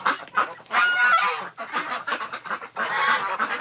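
A crowd of geese honks loudly and continuously in an enclosed space, overlapping calls rising and falling with brief dips.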